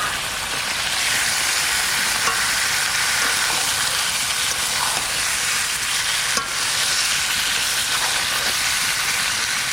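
Fried baush fish poured into a wok of hot oil, giving a loud, steady sizzle that holds evenly for about ten seconds, with a few faint clinks and no voices.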